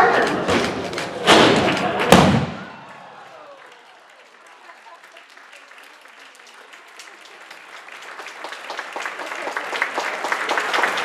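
A group shoves over a wall at a ceremony: a few loud crashing thuds as it falls, then a lull, with cheering and applause swelling steadily toward the end.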